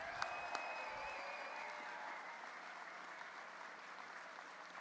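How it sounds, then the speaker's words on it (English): Steady applause from an audience, clapping continuously at moderate volume for several seconds with a couple of sharp claps at the start. "Let's give them a big round of applause."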